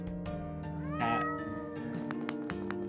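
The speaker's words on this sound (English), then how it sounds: "Cat." A video game cat lets out a few clear, close meows, rising and falling calls heard alone over a faint steady background.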